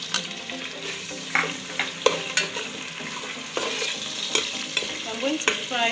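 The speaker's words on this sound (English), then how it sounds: "I'm going to fry the chicken until it's brown." Chicken frying in oil in a pan for homemade fried rice, a steady close crackle and sizzle with occasional stirring scrapes and clinks running throughout, no voices.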